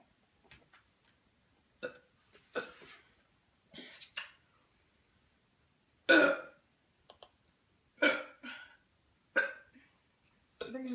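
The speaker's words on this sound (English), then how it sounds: "I think it's just a lot of burps." Someone burps repeatedly after drinking Sprite in a banana and Sprite challenge, a series of short, separate, fairly close belches and hiccup-like gulps spaced across quiet pauses.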